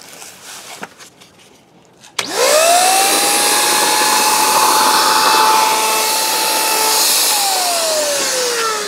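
A Wagner Flexio 2100 air-powered paint sprayer switches on abruptly after a few quiet handling clicks, then runs with a loud, steady whirring motor hum like a hand vacuum, its pitch dipping slightly near the end.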